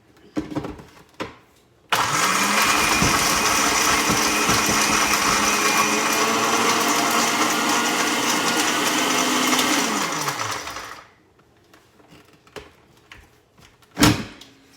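A Ninja blender starts abruptly and whirs loud and steady for about eight seconds while chopping collard greens, then winds down, with scattered kitchen clatter before and a sharp knock near the end.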